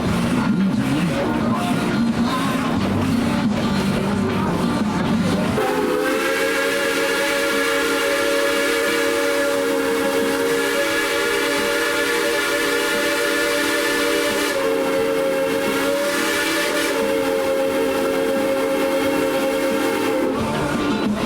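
A steady sustained whistle from a Tweetsie Railroad steam train sounds loudly for much of the ride, over constant rumbling and clatter of the moving train.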